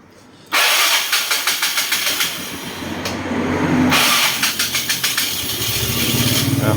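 A Yamaha Fino scooter that has stood unused for a long time starts with choke pulled, its engine catching abruptly and then running with a loud, close, slightly uneven idle that surges and dips.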